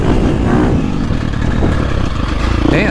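A 2024 Husqvarna FC350 dirt bike lugs in third gear, its engine a loud, steady, low chugging drone with rattling clatter, heard up close from the rider's position and without talk.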